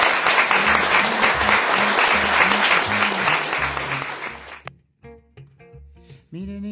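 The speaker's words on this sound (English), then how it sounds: "he deserves a big round of applause" A large audience at an arts awards ceremony claps loudly and steadily for several seconds. The applause then stops abruptly and gives way to a voice and music.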